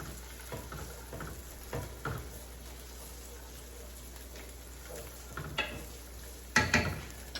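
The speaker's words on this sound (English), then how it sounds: "Give that a nice little stir." Frozen peas being stirred into pasta in a pan: faint scraping and soft clatters over a low, steady sizzle, with a sharper clink near the end.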